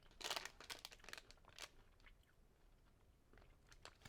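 Crunchy organic tapioca treat being chewed up close, a burst of sharp crisp bites followed by quieter irregular crunching, all fairly faint with no talking.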